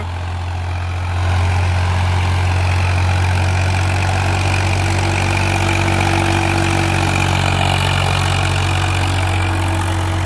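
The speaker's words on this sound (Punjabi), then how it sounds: "ਪੂਰਾ ਜ਼ੋਰ ਮਾਰਦਾ ਟਰੈਕਟਰ" A Swaraj 969 CRDI tractor engine drones steadily and loudly while pulling a plough through a field, building slightly after the first second and holding a strained, constant roar throughout.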